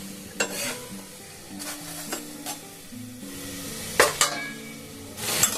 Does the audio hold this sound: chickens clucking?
no